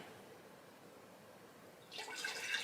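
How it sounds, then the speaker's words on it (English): Fresh purple juice from a Nama J2 cold press juicer pours in near the end, a soft liquid splash that rises after quiet room tone. "Alright, let's go ahead and pour the Nama J2 juice out."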